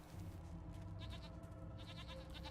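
Goats bleat in the Jade Empire game, a few wavering calls sitting faintly over a low, steady ambient bed.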